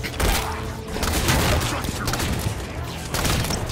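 Heavy, booming shotgun blasts from Halo 5: Guardians sound in close succession, dense and loud, merging with other gameplay explosions and effects.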